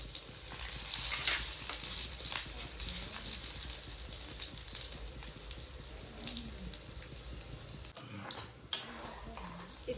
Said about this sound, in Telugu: ఇట్లా వేగాలి ఎర్రగా పప్పులు అయితే.